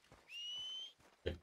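A single sustained two-tone whistle calls a horse in the Red Dead Redemption 2 video game. It lasts just over half a second and is fairly faint, followed by a short dull thump.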